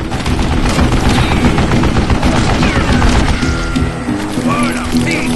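Dense, continuous gunfire in the Western shooter Call of Juarez: Gunslinger, rapid shots blending into a sustained barrage with booming impacts, loud and close, running under a game soundtrack with no pause.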